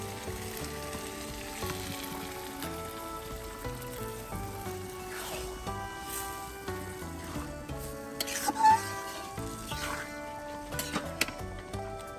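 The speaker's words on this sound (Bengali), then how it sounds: "মশলায় মোচা আর ডাল কিছুটা নেড়ে চেড়ে দিয়ে দেব" Banana flower and mung dal being stirred in spiced oil, a soft continuous sizzle with occasional scraping stir sounds, quiet and close, under background music.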